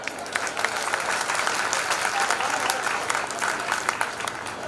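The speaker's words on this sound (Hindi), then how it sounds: "एक बार आप लोग जोरदार तालियां बजा दीजिए।" A large audience at a Hindi comedy poetry gathering, a kavi sammelan, claps loudly and continuously, a thick wash of many hands throughout with no voices on top.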